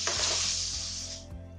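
Finely chopped tomatoes fry in hot oil with turmeric and red chili, giving a loud, steady close sizzle that fades slightly toward the end, with low kitchen hum and no voices.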